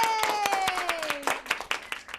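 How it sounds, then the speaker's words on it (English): Children clap together for Captain Tom's 100th birthday, a quick, fairly regular run of hand claps with a sliding, voice-like tone gliding downward over the first part. "Should we give Captain Tom a clap?"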